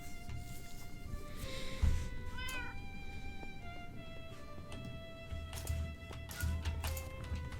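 Cats in Minecraft meow several times at irregular intervals, some overlapping, over a faint background of soft taps and ambient game sounds; no one speaks.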